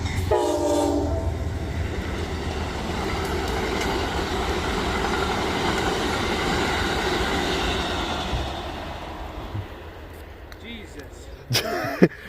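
Amtrak's westbound Pennsylvanian passenger train rumbles past in Cassandra, Pennsylvania with a steady roar, a horn blast sounding near the start, the noise fading toward the end.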